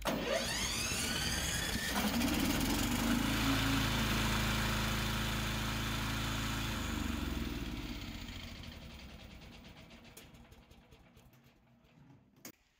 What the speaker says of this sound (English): Use this button to start the gasoline engine.